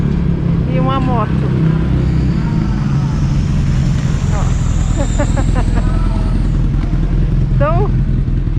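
A car followed by a motorbike passing along a small-town street in rural Spain, the engines a loud rumbling hum that swells and fades with a doppler pitch change. People talk over the traffic.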